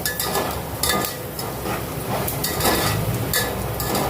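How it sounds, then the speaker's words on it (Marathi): Nylon sago pearls roasting in a pan over low heat, stirred continuously with a steady scraping and light clicking that runs unbroken, close and moderately loud, with no talking. "नायलॉनचे साबुदाणे आपण फास्ट स्लो कमी गॅसवरती भाजून घ्यायचे आहेत."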